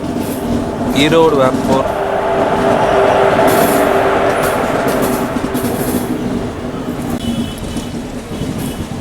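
A long-distance passenger train from Sengottai to Tambaram rumbles steadily along the rails, a loud continuous roar with a brief squealing tone early on, as someone speaks over the noise.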